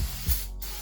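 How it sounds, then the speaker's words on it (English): A quick spray burst hisses against the backside of a rear brake rotor on a Ram 1500 during a brake job, one short close blast that fades into quiet hiss. "So I usually spray the backside first, because you're not gonna be able to because of the backing plate."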